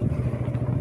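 A motorcycle engine rumbling steadily close by as it comes up from behind on a dangerous mountain bend, a low continuous drone through the short moment without any voices.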